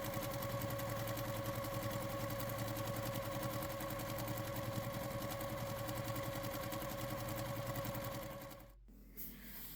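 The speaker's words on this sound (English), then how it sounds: "Now I'm taking both of these very long strips and sewing them right sides together." A sewing machine runs continuously as it stitches two long fabric strips right sides together, a steady close-up mechanical whir with an even rapid rhythm, stopping abruptly just before the end.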